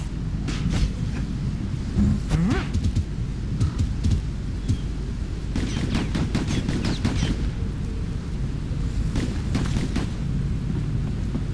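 Rapid gunfire in the video game Bastion, a blue enemy firing three-shot bursts: repeated sharp cracks in clustered volleys over a steady rumbling game background, fairly loud and with no talk.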